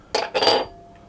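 Dry bread ingredients, flour and salt, tipped into a large mixing bowl: two quick close rattling pours against the bowl, then quiet.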